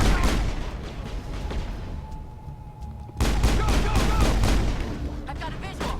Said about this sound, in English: They're sniping me.